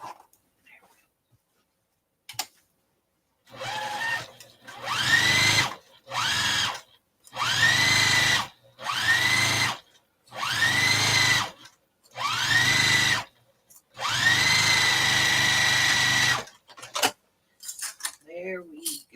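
A sewing machine stitches fat quarter project bags with zippers in repeated bursts of steady mechanical whirring, separated by short pauses, close and fairly loud, with small handling clicks between runs and at the end.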